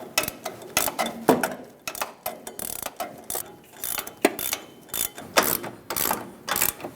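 A ratchet tightens a 17mm shock mounting nut on a Ford E-350 van, its rapid pawl clicks coming close and loud in steady back-and-forth bursts with no talking.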